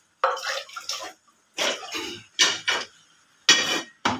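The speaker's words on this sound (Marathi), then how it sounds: "पाणी द्या भाऊ, पाणी मागतो वांग्याच्या भाजीमध्ये टाकायला" Water poured in repeated short splashing bursts into a pan of brinjal (aubergine) curry, each loud and close, separated by brief silences.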